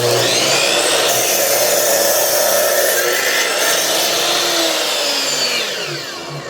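A saw rips through a piece of wood for a heart-shaped violin box, giving a loud, steady whining cut that holds for several seconds and then eases off near the end.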